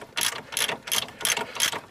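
A hand ratchet undoes 21mm and 24mm headed bolts and nuts on an Iveco Daily front suspension, giving a close, crisp series of about five rhythmic clicking bursts.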